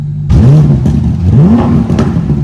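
A car with oversized aftermarket exhaust pipes revs hard, loud and close, the engine note swooping up and down in a few quick surges with no talking over it.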